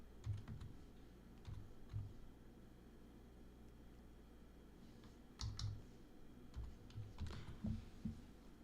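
Someone types a folder name on a computer keyboard, with quiet clustered key clicks in short bursts separated by pauses, close and soft against a faint hiss.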